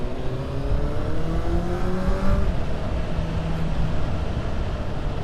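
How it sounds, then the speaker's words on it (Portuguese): A Honda Hornet motorcycle fitted with a LeoVince sport exhaust revs in an open space, its engine note climbing in a steady, fairly loud drone with rising tones and no talking. "o ronco está muito, muito bonito, está mesmo no ponto"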